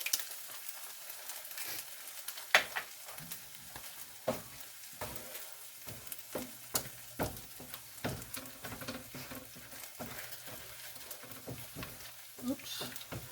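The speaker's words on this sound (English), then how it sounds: "just scramble the eggs and then mix it in with the rest" Eggs scrambled and stirred in a pan over a low frying sizzle, with a steady run of utensil scrapes and clinks close by, some sharper taps standing out.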